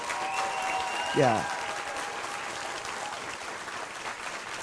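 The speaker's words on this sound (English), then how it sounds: "could we have another round of applause" Audience applauding at a Poetry Out Loud 2024 competition, a steady round of clapping from a crowd that holds through the whole stretch, with a brief rising whistle or voice cutting in near the start.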